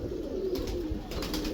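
A pigeon kept by a fancier coos in soft, low throaty bursts close by, with no talk around it.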